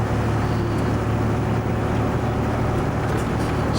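A 1981 Volvo F12 truck engine drones steadily and loudly throughout, a deep continuous rumble with a slight rise in pitch as revs climb from about 1600 to 1800 and it builds speed.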